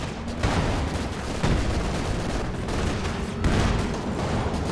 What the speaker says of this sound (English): here comes the wall of anti-tank guns